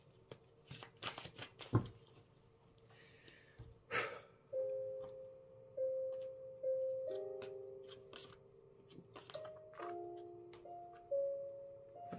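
Tarot cards being cut and shuffled by hand, soft papery riffles and taps near the listener, with a quiet breath and a sustained tone in the background.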